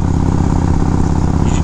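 A 1979 Harley-Davidson FLH Shovelhead fitted with an S&S carburetor idles loud and close, a dense, lumpy low rumble with mechanical clatter running steadily throughout and no voices.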